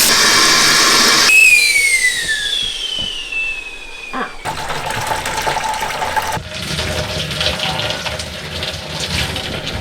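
Cold water runs in a tiny house shower setup, a loud hissing spray that gives way to thin whistling, falling tones and then a steadier, rougher rush of flow, with a voice briefly present.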